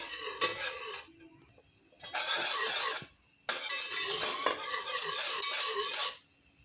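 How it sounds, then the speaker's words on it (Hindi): Homemade tomato ketchup being quickly mixed with dissolved cornflour, giving two bursts of brisk scraping and clinking of a utensil against a pot, separated by short pauses, close and fairly loud with no talking. "कॉर्नफ्लावर डालेंगे और साथ ही आपने इसको तेज़ी से मिक्स कर देना है।"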